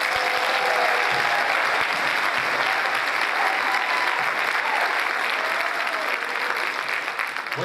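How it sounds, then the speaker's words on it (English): A concert audience at a town-wide school choir event claps for a group of sixth-grade singers, producing loud, even, continuous applause that holds steady throughout. "can you give them a big round of applause?"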